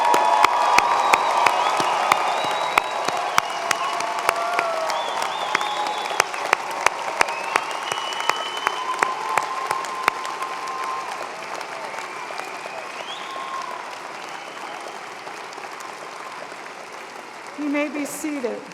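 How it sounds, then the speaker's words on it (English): Doctoral graduates are applauded at a Penn State Graduate School commencement, with loud, long applause from a large crowd mixed with some cheers and whoops, trailing off toward the end. "let's applaud their achievements"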